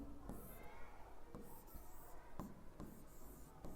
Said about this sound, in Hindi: फर्स्ट मैं लिख लेता हूं